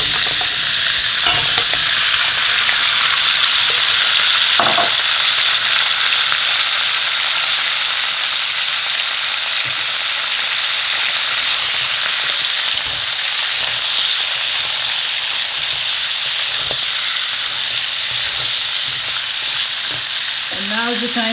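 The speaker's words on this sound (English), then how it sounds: "I've been frying the mutton on a high flame now for at least 5 minutes." Mutton pieces fry in hot oil over a high flame for a Goan bafat, giving a loud, steady sizzle that fills the scene, with occasional scrapes and clinks of stirring and no talk.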